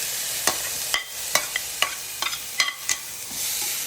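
Chopped carrots stir-fried in a pan for chicken fried rice: a soft, steady sizzle broken by about ten sharp scraping taps of a spoon against the pan, evenly spaced and close.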